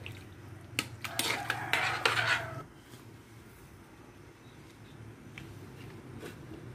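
A spoon clatters and scrapes against a pan while pansit guisado noodles are stirred with oyster sauce, a quick run of close metallic knocks that fades into a low steady background.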